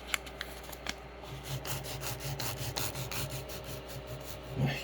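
An Ender 3 S1 3D printer nozzle scrapes lightly across the bed while the Z offset is set, a faint rasping drag under a steady fan whir.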